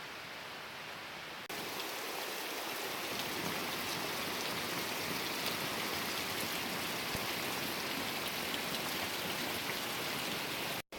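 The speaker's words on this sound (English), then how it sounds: "then just wake up to a torrential downpour" Torrential Amazon rain pouring in a dense, steady hiss that starts suddenly and holds loud and unbroken for several seconds before cutting off abruptly.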